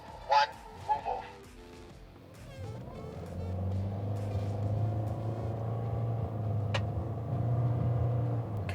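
Toyota Corolla Cross hybrid pulling away on the Zwartkops Raceway track, a steady low engine and road rumble that builds and holds after a brief start, with a person talking inside the car over it.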